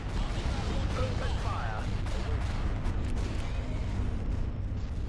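Starship cannon fire rumbles in a dense, continuous barrage during a space battle in the Empire at War strategy game, loud throughout with voices talking over it.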